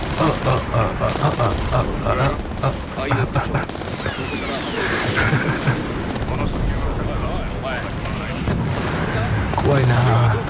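Dense bursts of video game gunfire and explosions crackle continuously, loud and chaotic, with rapid volleys layered over a rumbling battle din.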